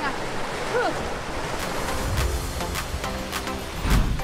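Ocean waves surge up the shore as the tide rises, a rushing roar of surf mixed with wind noise on the microphone, with people talking over it.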